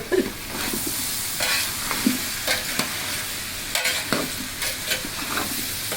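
Rice is stirred into a sizzling pot of jackfruit biryani, with repeated close scraping and clattering strokes of a spoon over a constant frying hiss.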